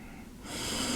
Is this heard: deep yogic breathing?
yes